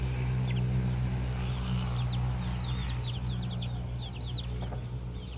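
Chickens and a rooster in a backyard coop cluck and chirp in short scattered bursts, moderately close, over a steady low hum.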